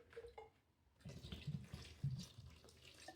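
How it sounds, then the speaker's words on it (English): Water is poured into a bucket of Thistle Bonding Coat wall repair plaster mix, a faint splashing gush that starts after a second of quiet and runs on unevenly with small surges. "Just gonna put some water in."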